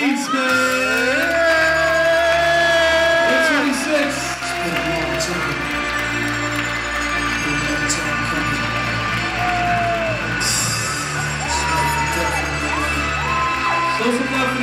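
A crowd whoops, yells and cheers loudly and steadily for the winner of a producer showcase at the Texas Urban Music Summit, with a few shouting voices rising above the steady roar.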